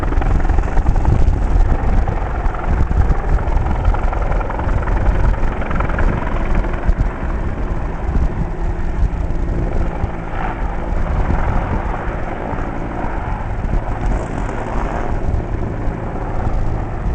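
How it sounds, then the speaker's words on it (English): A search and rescue helicopter over the Watkin Path on Snowdon makes a loud, continuous rotor and engine roar that holds steady from start to finish. "That is the search and rescue helicopter."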